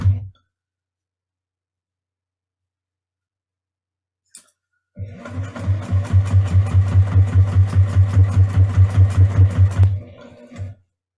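An electric sewing machine stitching a fabric pot holder runs in a steady rapid chatter for about five seconds, starting after a brief click and stopping abruptly, with a short whir before and after.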